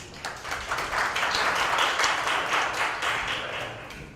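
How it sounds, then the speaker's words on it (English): Audience applause for a session moderator at a university biotechnology seminar in Taiwan, a steady, dense round of clapping from a roomful of people that swells and holds for several seconds without speech. "Let's all give a warm round of applause to Dr."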